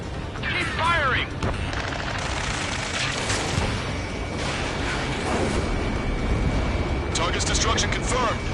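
Air support strike explosions and gunfire in a combat video game, a dense continuous barrage of booms and blasts throughout, with radio-style voices talking over the battle noise.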